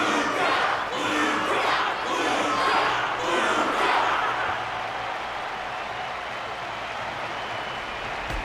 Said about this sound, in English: Their constant applause is a salute to this resilient Belobogian fighter.